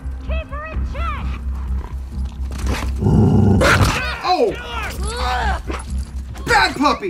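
Growling and barking from a dog in The Last of Us Part 2, snarls and sharp barks mixed with game combat noise, with someone shouting briefly over it.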